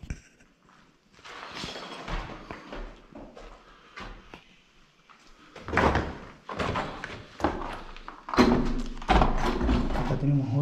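An old door in a country mansion in La Pampa opens with several creaks, knocks and clunks spread over about ten seconds, the louder thuds coming later, while a person talks.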